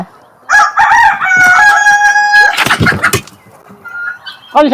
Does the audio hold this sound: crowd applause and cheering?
no